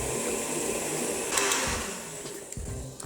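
An electric hand mixer whirs steadily through chocolate almond cream with rum for a galette des rois, a continuous motor drone that surges briefly louder midway before easing off, with no voices.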